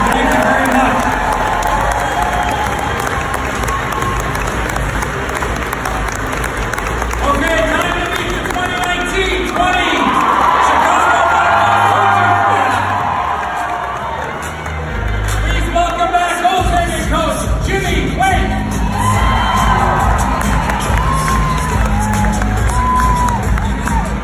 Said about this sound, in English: So a round of applause and a tip of the hockey helmet to the entire Blackhawks organization.